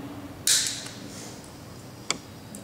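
Hand clippers snip cable ties on an Airlessco Sure Stripe 3650 airless line striper during repair, giving one sharp, bright snap near the start and a second smaller click later, close by, with no talking.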